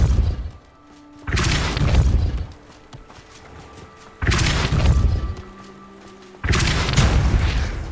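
Depulso spell cast repeatedly in Hogwarts Legacy, three loud booming blasts with whooshing bursts separated by quieter game ambience, no speech.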